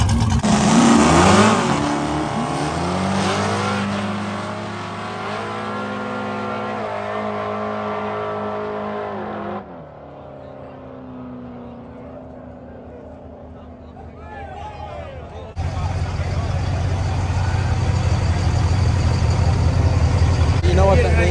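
Diesel drag racing between Ford and Chevrolet motors at a no-prep event in Texas: loud, sustained engine roar with a rising then falling tone, a quieter lull, and a second heavy engine drone returning.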